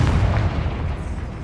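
A Confringo blasting spell explodes in the Hogwarts Legacy video game, a loud, dense low boom that holds for about half a second and then rumbles on at a slightly lower level.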